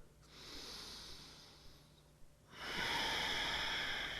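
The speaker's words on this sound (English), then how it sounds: "breathe in and out of your nose. Try and make it nice and slow and controlled." Slow, controlled breaths in and out through the nose during an upper-body shoulder mobility workout: a soft, quiet inhale hiss, a brief pause, then a louder, fuller exhale, close and alone.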